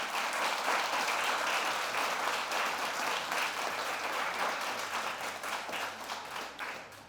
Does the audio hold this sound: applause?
yes